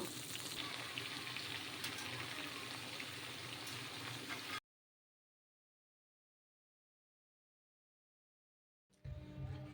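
Cabbage frying in a kadai makes a steady, close sizzle for a few seconds, then cuts to silence before a brief burst of sound returns at the end.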